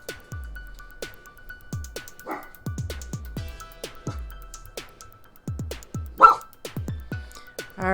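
Several dogs, including a big mastiff, barking repeatedly, a mix of deep woofs and sharper yips, fairly close with short pauses between bursts.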